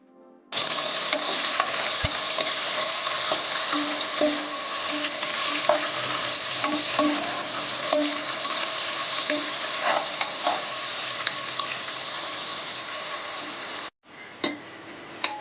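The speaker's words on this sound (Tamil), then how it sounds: "அதுக்கப்புறம் நம்ம வெங்காயம் போட்டு நல்லா வதக்கிக்கலாம்." Onions sauté in oil in a pan for a tomato biryani, a loud, continuous close sizzle with faint stirring clicks running underneath, cut off briefly near the end before resuming quieter.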